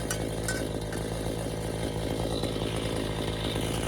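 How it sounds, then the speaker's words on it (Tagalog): A brush cutter buzzes loudly and continuously while cutting grass in a garden, its small engine a close, steady high-pitched whine with a faint clatter from the blade. "gagrass cutter na tayo doon"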